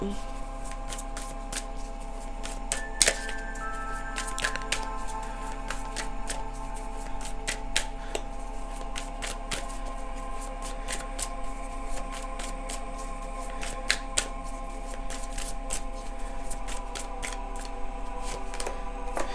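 Tarot-style truth cards being shuffled by hand for a reading, a steady close riffle and slide of card stock with sharp snaps throughout, over a faint background hum.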